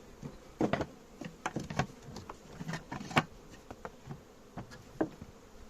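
Honeybees buzz around hives at a spring apiary after rain, individual bees zipping close past in quick irregular bursts over a quiet background.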